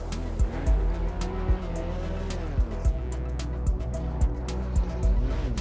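Video game race cars spinning donuts at Monza, tires squealing in repeated sharp bursts over a continuous revving engine drone, with several squeals close together.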